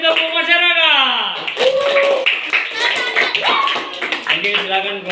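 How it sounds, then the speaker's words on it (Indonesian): A class of students claps a rhythmic pattern together in a classroom during a math lesson, the group claps sounding close and loud with voices, chatter and a teacher's speech mixed throughout. "Ya, beri tepuk masyarakat."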